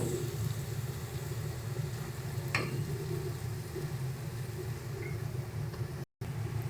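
Spices sautéed over a low flame in a pan for a Bengali yogurt fish curry (doi katla): a soft, steady sizzle runs throughout, with one brief scrape of stirring partway through.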